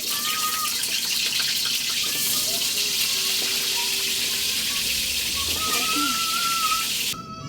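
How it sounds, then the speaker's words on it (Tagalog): Peeled hotdogs frying in a pan, a continuous bright sizzle and crackle of hot oil lasting several seconds, close up, with faint background tones and no clear talking. "Prito na po natin to."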